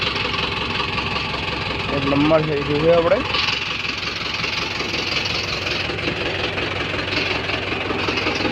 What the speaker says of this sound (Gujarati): તમને બહાર છે આપણું ટ્રેક્ટર બતાવું, ચાલો નીચે